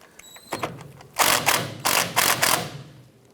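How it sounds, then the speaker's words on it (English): A 1/2-inch socket wrench ratchets on a rusted tie rod adjuster bolt on a Chevy S10, making a few light clicks followed by three loud, close bursts of grinding, clacking turning. "We're going to use our 1/2-inch socket and our wrench and loosen this adjuster bolt right here."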